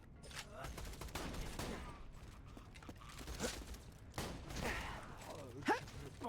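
Bursts of gunfire from the video game Borderlands 2, several sharp shots mixed with mechanical clatter and game effects, moderately quiet and continuous.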